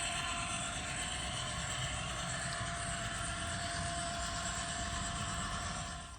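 A scale model train runs steadily along a home layout with a trestle, giving a continuous mechanical whir and rumble at a constant level throughout, with no talking.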